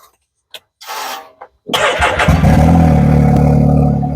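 Can-Am off-road vehicle with a cutout exhaust: a few clicks and a brief crank, then the engine catches and settles into a loud, rumbling idle close by.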